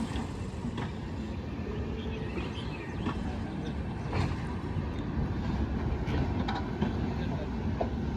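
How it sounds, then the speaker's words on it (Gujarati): A passenger train rumbles past at a station in Junagadh with a steady, continuous roar that swells slightly midway, while people talk over it. "તો મિત્રો આપણને અહીંયા ટ્રેન પણ જોવા મળી ગઈ છે"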